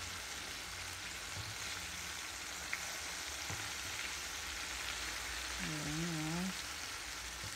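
Bacaladilla fish frying in hot oil, a steady broadband sizzle and crackle running throughout at moderate level, with a brief spoken word and a short voiced sound near the end.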